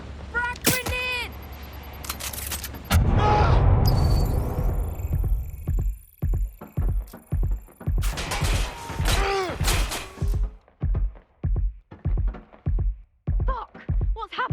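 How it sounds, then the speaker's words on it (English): A frag grenade goes off in Watch Dogs: Legion as a loud, heavy blast with a long rumbling tail, followed by a run of rhythmic thuds and game voices talking. "Frag grenade!"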